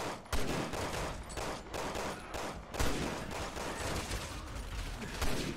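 Repeated gunshots in Resident Evil 6, a steady string of sharp reports spaced through the stretch over a busy, fairly loud game soundscape with scattered mechanical clicks.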